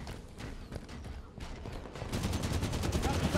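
Rapid Light Rifle fire in a Halo 5 Big Team Battle match, a steady stream of sharp close shots that grows denser and louder in the second half.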